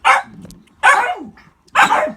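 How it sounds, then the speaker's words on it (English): An old dog barks three times, loud and close, in evenly spaced sharp barks with short quiet gaps between them. "This is my other old dog, Bruiser."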